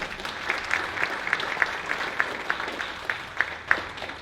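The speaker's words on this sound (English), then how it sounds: "Give her a round of applause" Applause at a concert tribute, fairly quiet scattered clapping with a few distinct sharp claps standing out at a steady pace.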